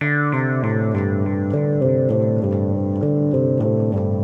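A bright Roland System 1 Promars synthesizer line of short, legato notes stepping up and down in a quick, even rhythm, the filter envelope not retriggering, the tone staying smooth without fresh attacks.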